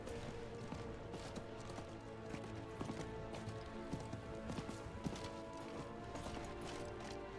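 Horse hooves clip-clop steadily in town in the video game Diablo 4, a quiet continuous patter of footfalls layered with game ambience and no talking.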